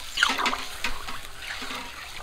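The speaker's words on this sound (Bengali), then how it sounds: "দিয়ে দিচ্ছি জল, ঝোলটা পাতলা করব।" Water pours into a pan of frying rui fish to thin a curry gravy with taro root and parwal, making a brief, soft, splashy gush and trickle close by.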